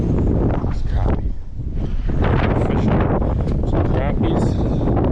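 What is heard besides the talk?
strong wind while fishing for crappie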